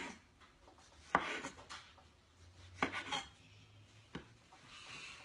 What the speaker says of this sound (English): I'm gonna cut up some tomatoes